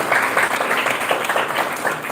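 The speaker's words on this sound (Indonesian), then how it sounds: "Tepuk tangan malih pisan." Applause from the audience at a Balinese-language workshop during the 2023 Bali Language Month event, a short burst of steady, fairly loud clapping with no speech over it.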